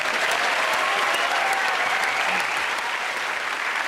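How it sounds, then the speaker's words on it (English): A TV comedy panel show studio audience applauds steadily throughout, dense clapping that stays loud and even from start to finish. "Give a round of applause to everyone there."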